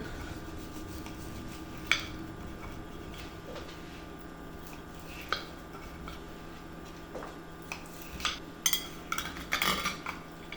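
Cutlery cutting into a cooled bacon and cheese quiche, with a low background hum and scattered soft taps and clinks against a dish that come more often and grow louder toward the end.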